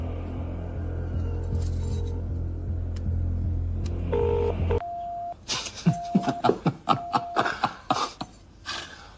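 Telephone keypad dialing tones, a run of short touch-tone beeps each followed by a clicky tap, come after a low rumbling hum that cuts out midway, with no talk over them.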